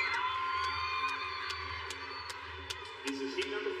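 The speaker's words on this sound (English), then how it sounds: "Listen for the crowd cheering his name soon from Colombia" Stadium crowd at a youth athletics championship cheering and whooping for a Colombian hurdler before a 110 metre hurdles heat, a sustained distant roar with scattered louder shouts.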